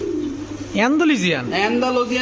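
Close, loud pigeon cooing in rolling, warbling phrases that rise and fall, over a steady low background hum.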